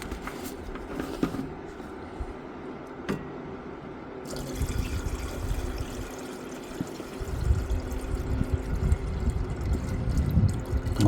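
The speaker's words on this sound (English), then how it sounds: "so the distilled water is added" Distilled water poured onto gold residue recovered from RAM sticks, a quiet trickling and filling sound that starts soft, then grows into a fuller, louder splashing pour toward the end, with no talking.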